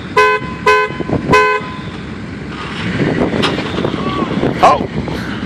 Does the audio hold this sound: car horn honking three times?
yes